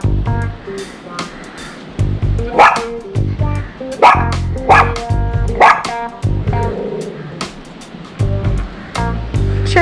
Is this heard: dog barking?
yes